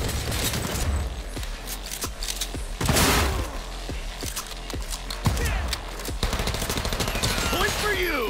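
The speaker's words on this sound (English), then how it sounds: "Holy shit, recoil in these guns." Gunfire in the video game Cyberpunk 2077, with repeated sharp shots and bursts, some rapid and some spaced apart, mixed with impacts and game effects, loud and close.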